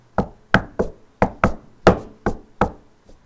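Eight sharp knocks at a steady, slightly uneven pace, made by a voice or mouth imitating a katak-like knocking noise heard in an attic; loud, close and alone with no talk.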